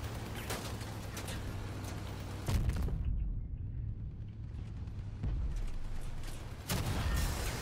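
Heavy weapon fire from armed combat vehicles pounds an enemy base in the video game Crossout, loud booming blasts and rumbling bursts coming in waves, with a brief lull midway before the barrage resumes.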